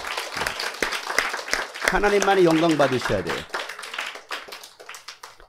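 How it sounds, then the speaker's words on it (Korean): A church congregation claps in scattered, crisp bursts while a pastor's voice speaks over the applause, the clapping continuing around and after his words. "여러분, 하나님께 영광의 박수를 올려드리시기 바랍니다."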